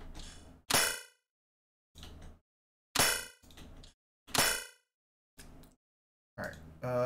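Weapon reload sound effect for Apex Legends, redesigned from library sounds: a sequence of sharp metallic clanks, clicks and ringing clinks in separated bursts, crisp and close, alone with no voice.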